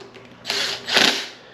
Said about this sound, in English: And I got here my electric drill.